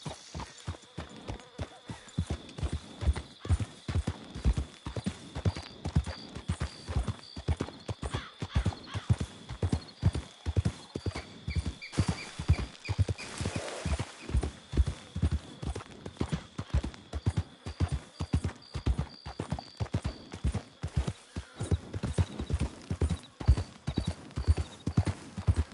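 Horse hooves clip-clop in a steady trotting rhythm throughout, loud and close, with a brief whinny partway through and no talk over it.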